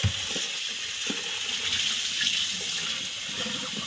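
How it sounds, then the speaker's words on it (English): Tap water runs steadily into a kitchen sink while salted pork fatback is rinsed under it, a continuous close hiss with faint clatter and no talking. "take it over here to the sink and we're going to wash it and get all that salt off of it"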